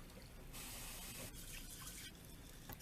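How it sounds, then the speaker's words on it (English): Dried black beans rinsed under running water, a quiet hiss of tap spray and splashing that starts abruptly, with brief pauses and swishing as the beans are moved about. "So rinse your beans a couple of times"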